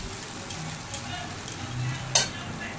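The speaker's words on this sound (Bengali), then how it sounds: "ডিমটা দিয়ে দেওয়ার পর আরও খানিকক্ষণ একটু ভালো করে নেড়েচেড়ে ভেজে নিলাম।" Peanut chow mein with egg being stir-fried in a pan gives a steady soft sizzle, with occasional light scrapes and clinks of the stirring utensil against the metal.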